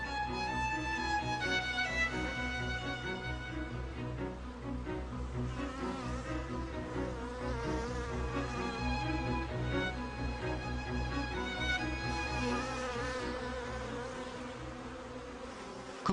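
A honeybee forager laden with nectar and pollen buzzes as it takes off from dandelions, a steady, close, droning whine that shifts in pitch as the wings speed up.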